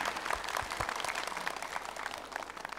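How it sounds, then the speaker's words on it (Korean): Applause from a contest audience for two contestants, a dense steady patter of many hands clapping at a moderate distance, sustained throughout with no voices over it. "우리 두 분께 박수 좀 부탁드리겠습니다"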